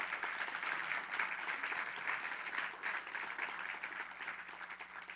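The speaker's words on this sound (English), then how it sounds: "Please give her a round of applause" An audience at a FOOD 2050 evening event gives a sustained round of applause, a dense wash of many hands clapping steadily for several seconds without letting up.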